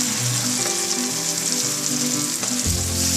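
Cornstarch slurry poured into a sizzling chilli paneer sauce, an Indo-Chinese cottage cheese dish, giving a continuous close frying hiss with faint stirring and a brief splash near the end, no talking.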